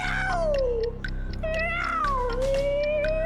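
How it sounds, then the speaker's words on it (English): Cats fighting, a played sound effect of loud, drawn-out yowls and caterwauling that rise and fall in pitch, continuous and close throughout. "Fighting cat. Cat's fighting."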